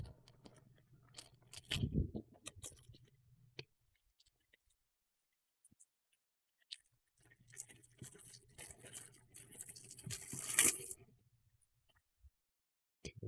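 A taped-down package holding a set of travel bottles is pulled open, with close bursts of crackling, ripping and crinkling separated by a few quiet pauses.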